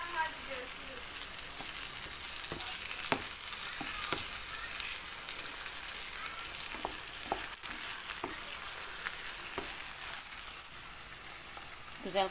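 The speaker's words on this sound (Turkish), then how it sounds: "patlıcanlar kızartırken başında bekledin" Steady sizzling of eggplant frying in hot oil in a pan fills the clip, with occasional sharp pops and crackles, close up and continuous.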